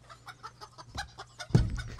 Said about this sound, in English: So you get around to the back and see more chickens.